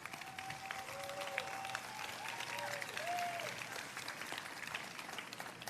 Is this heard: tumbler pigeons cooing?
no